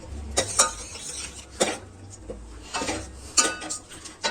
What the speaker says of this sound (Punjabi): ਥੋੜੀ ਦੇਰ ਚਲਾਉਂਦੇ ਹੋਏ ਇਸ ਨੂੰ ਹਿਲਾ ਲੈਣਾ